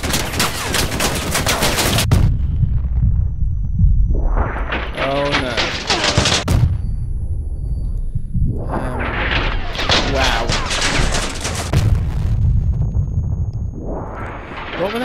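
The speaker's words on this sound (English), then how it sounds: "that guy's trying to hit me with a cannon" Repeated heavy booming cannon blasts and rapid gunfire-like bursts in the video game Crossout, loud and close, with short pauses between volleys and a game soundtrack rumbling underneath.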